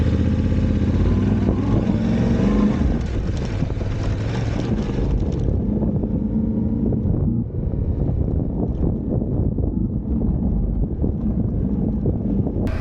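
Yamaha Tenere 700 motorcycle riding on dirt in third gear, a steady loud engine drone with heavy wind buffeting across the mic throughout, no talking.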